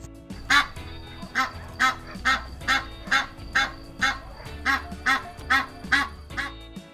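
A gander honking repeatedly in a steady rhythm, loud and close, about a dozen calls in a row, in a village farmyard.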